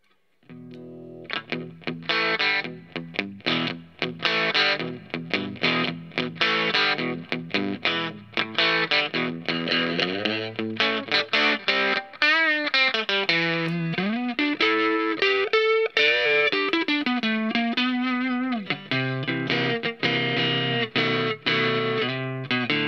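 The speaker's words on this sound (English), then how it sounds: "Now I'll turn the gain up a bit for a small amount of distortion." An electric guitar played through a CAB Driver overdrive pedal set for slight distortion, a clear, close run of chords and single notes with gentle grit and sustained bends, no talking.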